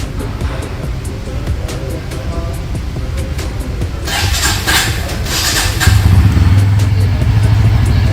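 A 2025 Bajaj Pulsar N160 motorcycle engine turns over and starts, settling into a low, steady idle, with some wind or outdoor noise behind it.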